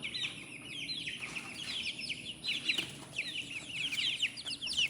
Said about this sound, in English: And they're right, chickies. My little chickies.